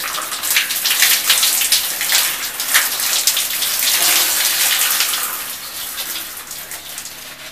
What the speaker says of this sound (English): we're just going to kind of dump it all over us and wash up.